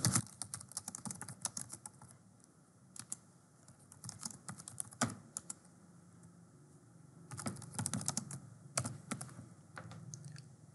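Soft, close keystrokes tap on a computer keyboard in irregular clusters with short pauses while administrator details are entered for a Cisco AP541N wireless access point.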